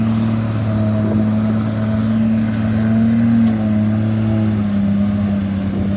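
A HIDROMEK HMK220LC-2 excavator turns on soft, mushy ground, its diesel engine holding a loud, steady drone close by with a slight rise and dip in pitch, alone without talk.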